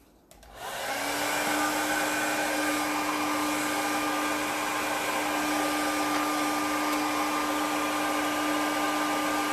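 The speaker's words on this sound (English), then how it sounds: "I gotta use my little hair dryer here." A small hair dryer, used while throwing a large pottery bowl, clicks on and settles into a steady, loud whirring hum with a constant high-pitched whine, running without pause.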